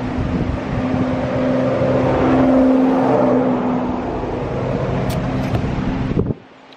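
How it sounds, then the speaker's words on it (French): A car approaching and driving past on a road by a roadside hitchhiking spot, a steady swelling engine and tyre roar under wind buffeting the microphone, peaking mid-pass then cutting off abruptly near the end. "attendez, il y a une voiture"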